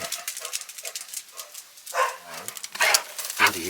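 A dog barks and whimpers at close range in a series of short, uneven yelps and bow-wows, rising louder toward the end with no talk over it.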